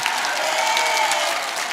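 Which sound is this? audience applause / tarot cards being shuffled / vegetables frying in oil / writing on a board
audience applause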